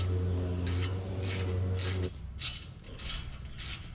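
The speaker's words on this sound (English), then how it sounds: "the first thing I'm going to do is remove this brake line bracket. There are two bolts here." A ratchet wrench loosens the brake line bracket bolts on a Ford F150 during a lift kit install, giving several quick bursts of close clicking; a low steady hum runs under the first half.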